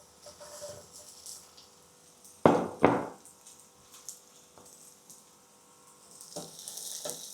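Deep-fried tofu returned to a hot pan with garlic: two loud clattering thuds as it drops in, then a soft sizzle with scattered small knocks, rising slightly near the end.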